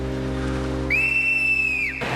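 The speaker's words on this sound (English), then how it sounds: "This is my protection whistle." A protection whistle blown once: a single shrill, steady tone lasting about a second, close and clear over a low background hum.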